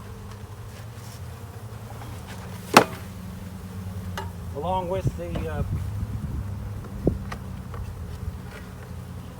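Honey bees hum steadily during hiving from a package, with a low drone throughout, a sharp knock partway through, and a voice talking over it.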